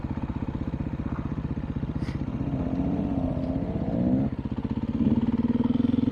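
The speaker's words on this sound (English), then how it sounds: "Up front there is Tommy on a 2021 CRF 450L" A 2021 Honda CRF 450L dirt bike rides a rocky trail in the China Wall OHV Area in Colorado: a close, loud single-cylinder engine thumps steadily, rising and falling with throttle, and gear clatter sounds throughout.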